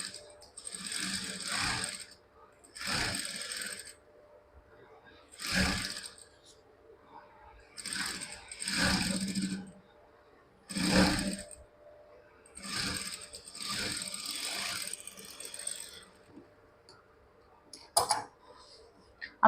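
Sewing machine stitching a school uniform chudithar, a run of short mechanical bursts of whirring and clicking separated by pauses, close and fairly quiet, with no talk.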